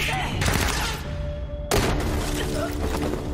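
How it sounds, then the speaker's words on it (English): Bursts of gunfire from the animated series Terminator Zero ring out as a sharp volley, then a second loud blast cuts in after a brief lull, with dialogue and music mixed underneath. "She's still shooting at him."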